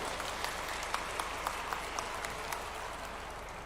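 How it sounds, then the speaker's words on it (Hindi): A crowd at a community conference applauds the visiting chief minister with steady, fairly distant clapping. A few sharper claps stand out faintly over a low, even hum. "एक बार जोरदार तालियों से उनका स्वागत सभी लोग कर दें"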